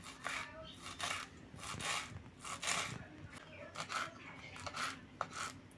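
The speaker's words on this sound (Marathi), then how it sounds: "एकदम बारीक अशी कोथिंबीर चिरून घ्यायची आपण" A knife chops fresh coriander finely on a board, giving quick, soft, steady cuts that repeat throughout at close range.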